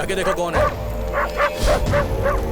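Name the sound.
dogs barking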